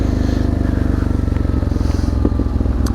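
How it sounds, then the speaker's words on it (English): A Honda Transalp XL600V motorcycle ridden over bumpy ground after a front suspension upgrade: a loud, close engine throbs in rapid, even pulses throughout, with occasional clattering knocks and rattles from the rough surface. "So let's try a bit of bumpy stuff."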